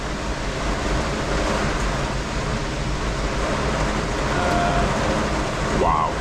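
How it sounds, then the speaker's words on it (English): Heavy rain pouring down around a camp, a loud, steady hiss of water hitting surfaces with a faint whistle-like tone near the end. "Look at that rain."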